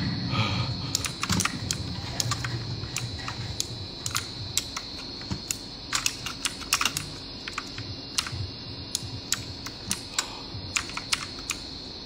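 Rapid clicking of a computer keyboard being typed on, steady and close, with irregular louder key strikes and no talking.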